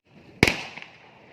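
A single Diwali firecracker bursts with a sharp, fairly close bang, followed by a brief ringing tail that fades over about a second, in a Pune neighborhood at night.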